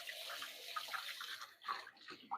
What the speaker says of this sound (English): Go wash my hands real quick